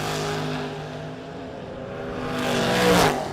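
Drag racing cars, including a Mazda RX-7, making a run at King of the Creek: a steady engine roar with harmonic drone that swells louder toward the end as a car passes near.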